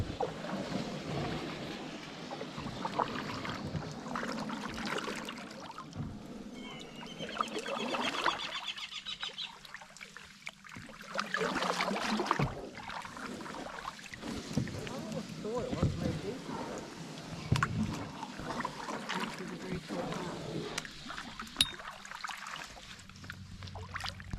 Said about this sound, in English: So we've got up for an early morning paddle